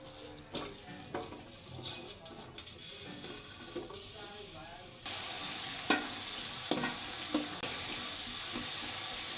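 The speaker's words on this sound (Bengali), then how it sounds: "আমি হাঁড়িতে 250 গ্রামের মতো তেল দিয়ে দিয়েছি। 250 গ্রাম পেঁয়াজ কুচি দিয়ে দেব" Chopped onions tipped into about 250 grams of hot oil in a pot, the frying hiss jumping suddenly louder halfway through and continuing as a steady close sizzle with stirring scrapes.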